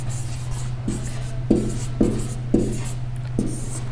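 Pen or chalk writing out the word alphabet by hand, a series of short scratchy strokes in an uneven rhythm, close and clear over a low steady hum.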